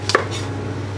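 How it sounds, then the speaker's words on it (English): A knife makes a couple of quick chopping taps on a board while apples are quartered and cored, under a steady low kitchen hum. "quarter and core the rest of the apples."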